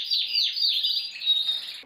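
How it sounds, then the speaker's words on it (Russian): Canaries and finches chirping in a bird room, a dense stream of thin, high tweets and trills that continues steadily without talk. "Щебет кеннеров и амадинов в птичьей комнате когда-то вдохновлял великого композитора"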